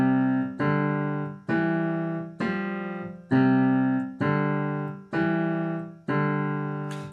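A piano plays a slow phrase of eight struck chords or notes, each ringing and decaying before the next, steady and evenly spaced, with no voices.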